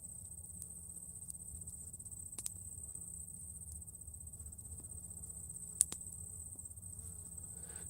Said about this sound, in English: There's so many of the honeybees going around.